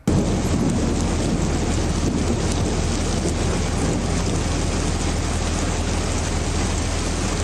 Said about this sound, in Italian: In un attimo il cielo torna a incupirsi, piove a dirotto